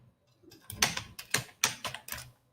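Keystrokes on a computer keyboard as text is typed, a short run of about six close, moderately quiet clacks in an uneven rhythm.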